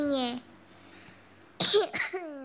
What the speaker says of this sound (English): But you've been coughing a lot.